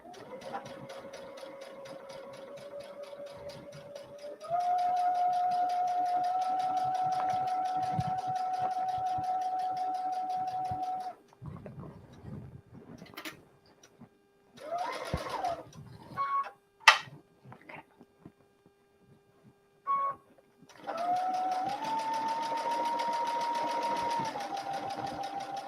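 A sewing machine runs in long steady bursts while piecing and back stitching a quilt, its motor whirring with a dense mechanical chatter, pausing midway amid brief clicks and handling noises before starting again.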